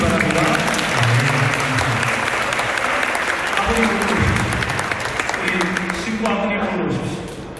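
Wedding guests at Hotel ICC applaud during a Korean church-style ceremony with steady, loud clapping. Voices talk over it, and the applause fades toward the end.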